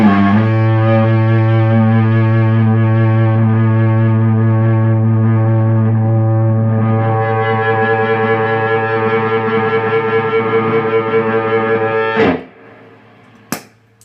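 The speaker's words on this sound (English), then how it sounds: "Now I'm going to play the same thing with the compressor on." An electric guitar lead line runs through a Joyo JF10 Dyna Compressor into a driven amp, with loud, sustained, distorted notes held evenly before stopping abruptly, then a brief clack.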